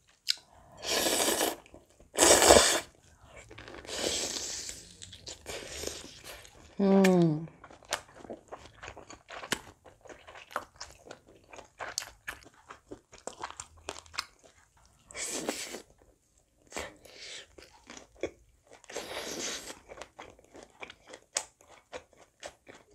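Crisp snapping bites and wet chewing on a plump kielbasa sausage come close and loud in bursts, separated by quieter moments of softer mastication and small mouth noises.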